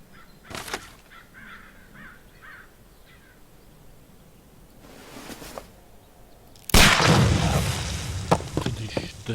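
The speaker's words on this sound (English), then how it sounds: "Do you have your pistol? Good. Fire at this package." A pistol shot fired at a package in a Sherlock Holmes Crimes and Punishments game, a sudden loud bang that rings on with a noisy tail, following a quieter stretch with faint cawing and scattered knocks.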